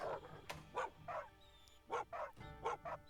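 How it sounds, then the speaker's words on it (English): Small dog yips and barks from a voice option in Monster Hunter Rise, a squealy, high-pitched voice giving a series of short, clipped barks in uneven bursts, fairly close and clear. "No, I don't want a squealy dog."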